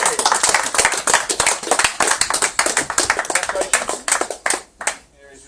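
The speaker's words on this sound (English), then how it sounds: "let's give a big round of applause to David Wood" Motorsport prize-giving crowd at the AK Max Cup 2017 clapping for a third-place finisher, loud, dense and continuous, with a voice speaking over it before it dies away.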